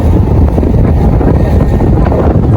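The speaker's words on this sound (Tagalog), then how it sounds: "Maalon yung biyahe namin ni Rika" A boat pushes through rough, wavy sea on the way to Burias, with a steady low rumble of water and wind buffeting the microphone throughout, loud and continuous.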